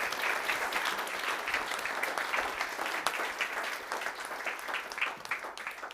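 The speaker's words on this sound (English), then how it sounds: "Big round of applause for David." A conference audience applauds a speaker, steady dense clapping filling the room at a constant level for several seconds with no talk over it.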